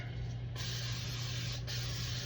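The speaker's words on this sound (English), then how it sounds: "I am still going to spray this whole thing so it doesn't stick." Nonstick cooking spray hisses from a can into a cake pan for a chocolate mayonnaise cake, in two steady close bursts with a short pause between, over a low background hum.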